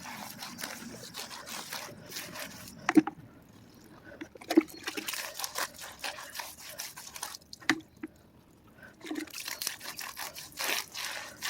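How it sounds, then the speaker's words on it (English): A gentle wheel-face brush scrubs a car wheel with Turtle Wax Pure Wash soapy water from a bucket. Wet swishing, drips and intermittent scrubbing are heard nearby at moderate volume. "We've got a bucket here with some Turtle Wax Pure Wash, extremely high lubricating soap, just a gentle wheel face brush"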